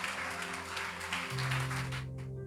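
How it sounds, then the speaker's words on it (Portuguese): A church congregation applauds during a worship service, with steady faint clapping over sustained organ or keyboard tones that shift to a lower chord midway. "Pode aplaudir ao Senhor, queridos, pode aplaudir ao Senhor."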